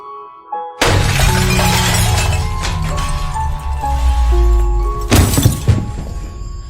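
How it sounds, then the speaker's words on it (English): A doll shatters into pieces on the floor in a loud, sustained crash of breaking fragments, followed by a second sharp burst of shattering debris near the end, with no speech. "The doll instantly shatters into pieces."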